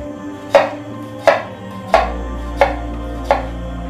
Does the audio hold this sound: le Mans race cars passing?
no